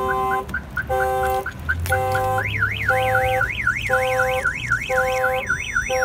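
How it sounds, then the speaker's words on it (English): A Clifford 5706x car alarm on a 2013 Dodge Challenger blares nearby, cycling through pulsing beeps and a rapid warbling wail, loud and continuous. "Here is the alarm that was installed"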